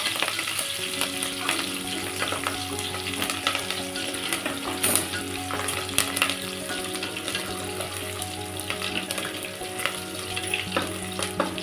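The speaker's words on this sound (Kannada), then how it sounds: "ಈಗ ಇದಕ್ಕೆ ಹಸಿಮೆಣಸಿನ್ಕಾಯಿ ಹಾಕೋತಾ ಇದ್ದೀನಿ, ಹಾಗೆಯೇ ಕರಿಬೇವು ಹಾಕೋತಾ ಇದ್ದೀನಿ. ಸ್ವಲ್ಪ ಫ್ರೈ ಆಗಲಿ ಇದು." Green chillies and curry leaves fry in hot oil for a dhaba-style dal, giving a loud, close, continuous sizzle broken by stirring scrapes against the pan, with faint steady tones in the background.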